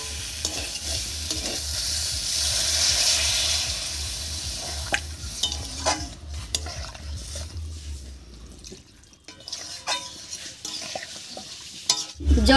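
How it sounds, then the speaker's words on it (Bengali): Water poured into a pan of vegetable curry with dried fish, then stirred, giving a steady sizzle with scraping spoon strokes that fade to quieter clinks and stirring near the end. "এবার ঝোলের জন্য জল দিয়ে দেব"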